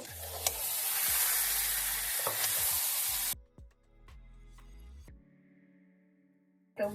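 Dal tadka frying in a pan, a loud steady sizzle with scraping stirs that cuts off suddenly, followed by quieter clinks and taps of a spoon against the pan.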